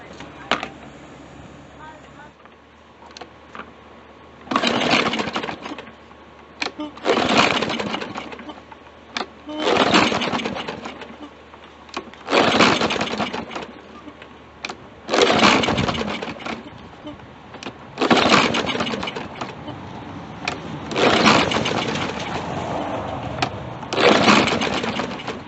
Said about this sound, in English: we're close enough to fire her up